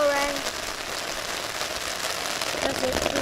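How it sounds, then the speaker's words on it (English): Rain in a thunderstorm pattering steadily on a tarp outdoors, a dense close hiss of drops with a voice speaking briefly at the start. "It's raining. there's a thunderstorm coming."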